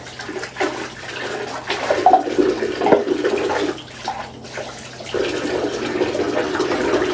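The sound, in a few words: hot water running from motel bathtub tap while washing dishes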